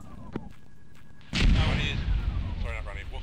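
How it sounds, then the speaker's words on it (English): Mortar rounds land near soldiers sheltering in trees, a sudden heavy boom followed by a long rumbling roar and debris rattle, loud and close, with a faint radio-like voice beforehand. "We're just in the trees here where the mortars are landing again."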